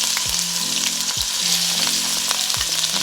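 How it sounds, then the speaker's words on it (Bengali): Chopped ginger sizzles steadily in two tablespoons of hot oil in a pan on the stove, a loud continuous fry with a few soft scrapes of stirring and no talking. "চুলায় আমি প্যান বসিয়ে তার মধ্যে দুই টেবিল চামচ নর্মাল তেল দিয়ে দিয়েছি তারপর আমি দিচ্ছি এক টেবিল চামচ আদা কুচি"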